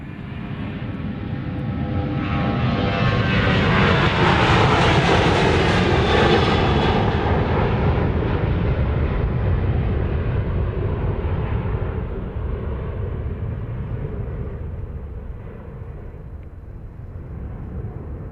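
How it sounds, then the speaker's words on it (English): A Southwest Boeing 737-700 jet departing Dallas Love Field roars loudly and steadily, swelling as it passes the observation area and then slowly fading into the distance. "So this is a flight 1505, I think, to Colorado Springs"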